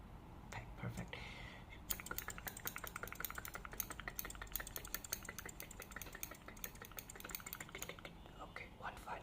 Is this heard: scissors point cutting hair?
yes